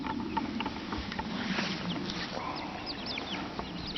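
Hens and young chicks on an off-grid homestead cluck and peep softly in a coop, a faint continuous chatter of overlapping bird calls with rustling in the background.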